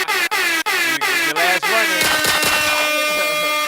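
Air horn sound effect from a podcast soundboard: a loud, repeated series of short blasts, then one sustained, blaring horn tone layered with harmonics.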